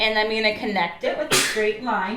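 A single sharp sneeze bursts out in the middle of someone's steady talk during a drawing session, loud and brief, with speech continuing right after.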